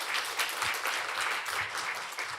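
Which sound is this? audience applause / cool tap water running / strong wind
audience applause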